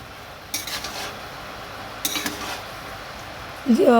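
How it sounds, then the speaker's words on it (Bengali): Vegetables with turmeric, chilli powder and salt are stirred in a pot, producing a few brief scraping clinks of a utensil against metal with quiet gaps between, followed by a short voice at the very end. "হলুদ গুঁড়ো লঙ্কা গুঁড়ো নুন দেওয়ার পর ভালো করে সবজির সঙ্গে মিশিয়ে নিলাম"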